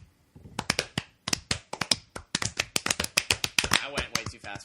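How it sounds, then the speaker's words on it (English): An attempted slow clap that comes out as a quick, uneven run of sharp, close hand claps, about two dozen in under five seconds, growing faster toward the end. "you fail at slow claps"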